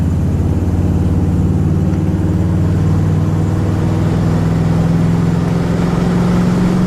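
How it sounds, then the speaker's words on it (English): A deep, throaty 327 V8 engine in a 1964 Chevrolet Impala Super Sport hums steadily and builds in pitch as it accelerates down a straightaway, rich low rumble with no talking. "Got that throaty sound"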